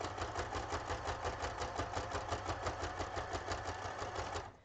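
Sewing machine stitching a lace-covered envelope made from book pages, running steadily with a fast, even mechanical chatter and close, continuous needle rhythm for the whole stretch before stopping at the end.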